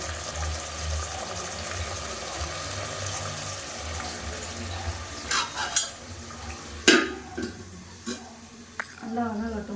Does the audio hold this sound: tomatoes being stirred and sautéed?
yes